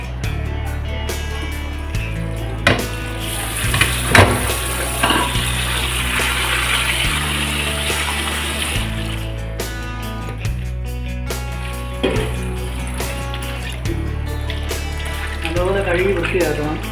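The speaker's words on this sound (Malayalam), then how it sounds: "കഴുകാൻ പോവാണ്." Running water splashes steadily while fish is washed in a home kitchen, a continuous close spatter under talking and background music.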